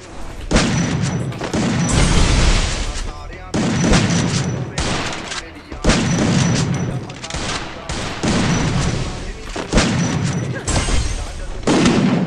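USP pistol gunfire in a video game mixes with heavy bursts of firing, loud dense volleys broken by brief pauses across the whole stretch.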